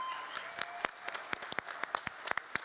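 A hackathon awards audience gives a round of applause for a team, steady dense clapping with sharp individual claps standing out, moderately loud and filling the room.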